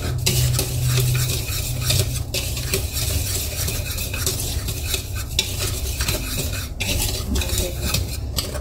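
Banana cake batter is mixed in a bowl, with a continuous close stirring and scraping of utensil against the bowl and occasional clinks, heard alone without talk.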